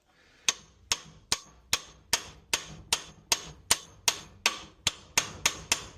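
A hammer strikes a corroded part over and over in a workshop, trying to shock it loose. There are about thirteen sharp metallic blows at a steady, even rhythm, close and loud, with no talking.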